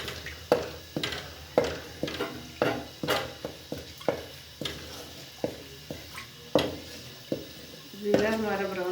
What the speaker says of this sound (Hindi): पहले जीरा डाल के ब्राउन कर देते हैं।